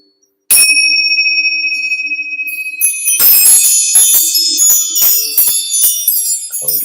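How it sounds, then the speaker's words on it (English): Small Tibetan bells chime during a shamanic meditation session, ringing out with a bright sustained tone before a busier run of tinkling strikes layers up and shimmers on alone. "these are little Tibetan bells"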